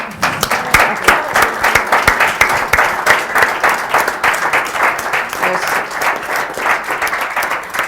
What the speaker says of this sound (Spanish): Y el aplauso para Ana González Pinto